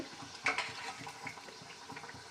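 Kerala-style paal cake dough fries in hot oil with a soft, close sizzle, a burst of bubbling crackle near the start, then lighter popping and occasional stirring clinks.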